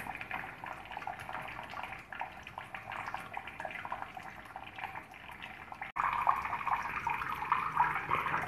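Thin streams of water fall and drip steadily into collecting containers of a Kelvin water dropper, a faint continuous trickle that grows slightly louder near the end.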